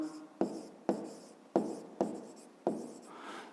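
Pen or pencil writing out a math exercise by hand on paper, five sharp strokes in an even rhythm, close and fairly quiet with a soft scratchy texture.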